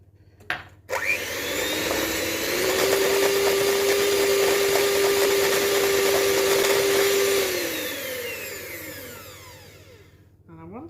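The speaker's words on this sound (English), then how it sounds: "Whisk again." An electric mixer whisks egg whites for amaretti biscuits, starting abruptly and whirring at a steady high pitch for several seconds before winding down, close and continuous.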